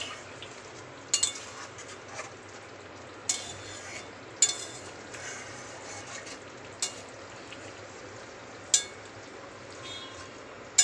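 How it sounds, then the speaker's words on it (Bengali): Curry being stirred in a pan after crushed kasuri methi is added, a low sizzle underneath with scattered sharp scrapes and clinks of the spoon at irregular intervals, close by. "কাসুরি মেথিটা দিয়ে একটু নাড়িয়ে নেব।"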